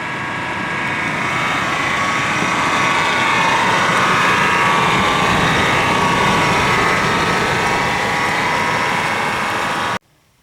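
A 1999 Chevrolet Suburban with a noisy engine and an empty coolant system runs steadily for about ten seconds, a loud, continuous broadband roar and drone with no speech, then cuts off abruptly.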